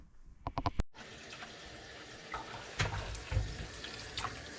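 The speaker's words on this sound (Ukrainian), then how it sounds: "Зараз буду промивати під проточною водою. Теплою, ну можна навіть сказати, чуть гаряченькою." Steady warm running water from a tap rinsing pike roe, a continuous hiss with a few clattering knocks early on and some splashing bursts, fairly close.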